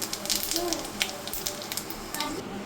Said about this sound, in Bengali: এরপর আমি ফোড়ন দিলাম, পাঁচফোড়ন আর শুকনো লঙ্কা।